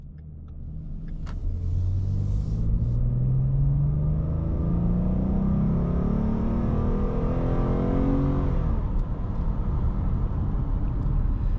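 A Ford Mustang's 3.7-liter naturally aspirated V6 revs up from low, its rising engine note climbing steadily in pitch, loud and close, then holding a sustained, rumbling drone.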